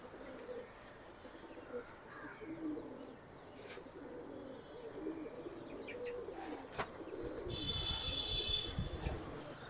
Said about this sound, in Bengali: হাতেরটা এখন নর কবুতর